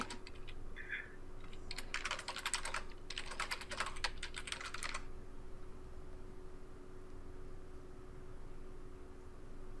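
Quick bursts of clicky typing on a computer keyboard, two dense runs of keystrokes a few seconds long over steady low room hum, then quiet background noise.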